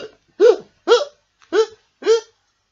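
A storyteller's voice imitates a cartoon shark's hiccups with four loud, evenly spaced, gulping vocal hiccups separated by short silences.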